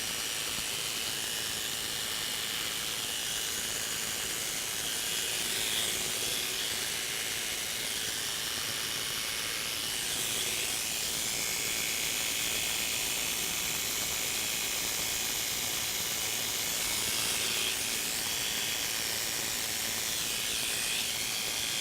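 Electric clippers shaving an animal's fur before surgery give a steady, continuous high buzzing hiss, close and fairly even throughout with slight swells, and no voices.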